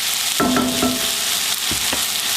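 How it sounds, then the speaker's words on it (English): Salisbury steak in gravy is stirred around a crowded skillet, a continuous loud sizzle broken by a few quick scraping strokes and knocks; no voices. "continue to stir them so that since you've got so much in the skillet, you want to make sure they rotate"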